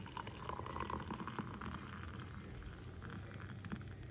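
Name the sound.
pouring hot water into a cup for hot chocolate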